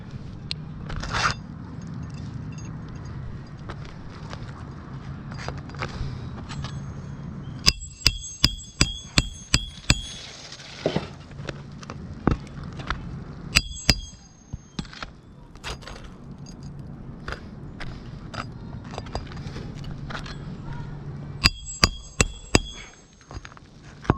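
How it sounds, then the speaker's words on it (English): Loose granules from a new roof shingle skitter and race down the surface while it is milled, a continuous gritty rush punctuated by sharp, rapid clusters of hard tapping clicks, close and fairly loud with no talk. "I just want you to hear all those granules. They're just racing down."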